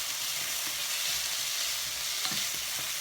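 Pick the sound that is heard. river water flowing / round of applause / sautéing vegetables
sautéing vegetables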